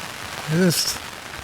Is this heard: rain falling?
yes